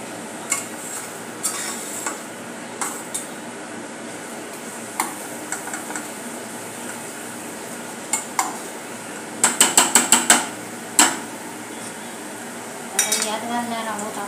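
A spoon scrapes and taps against a cooking pan while spice masala fries in oil for a drumstick and potato curry, giving sparse clinks, then a quick burst of rapid taps and a final scrape.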